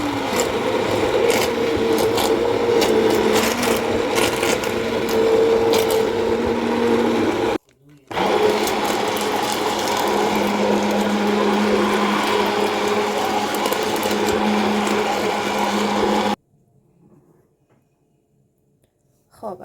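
An electric hand blender mashes haleem, a steady loud whirring grind that runs for about sixteen seconds with one brief stop before cutting off into near silence.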